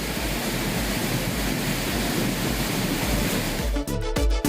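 Aliyar Kavi falls near Pollachi, swollen with floodwater, pours in a steady, dense roar of rushing water that fills the sound without any break.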